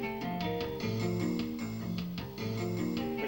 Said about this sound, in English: What you're hearing right now is simply a